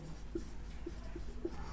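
Pen or chalk writing out a mathematics equation, heard as soft, faint scratches and taps spaced through a quiet stretch with low steady background hum.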